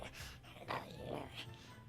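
A voice imitates a creature snarling during a tabletop role-playing game, giving a couple of rough, growly snarls close up with no words around them.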